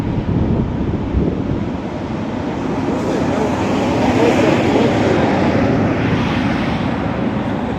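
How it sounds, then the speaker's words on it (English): Wind spills over a hill in a loud, steady broadband rush that swells slightly midway and never lets up, with no voices. "It's like the way that wind came spilling over the hill."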